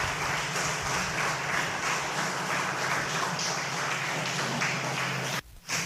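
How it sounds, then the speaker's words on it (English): A large audience gives firefighters a sustained round of applause at a public event, dense clapping holding steady for several seconds before cutting off abruptly near the end. "give our firefighters a big round of applause for everything that they do"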